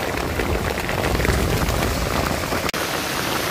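Heavy rain pours down in a dense, steady hiss and patter that fills the scene without a break, except for a momentary dropout near the end.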